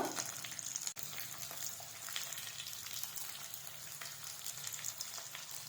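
Onions frying in a pan for chilli mushroom give off a steady, close, crackling sizzle, with one sharp click early on and no talk.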